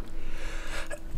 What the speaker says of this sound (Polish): Kichnę.